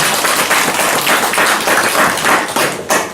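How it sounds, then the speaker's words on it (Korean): A church congregation claps steadily during a Sunday morning service to welcome a visiting missionary couple, a loud, sustained wash of many hands with no pauses. "박수로 환영합니다"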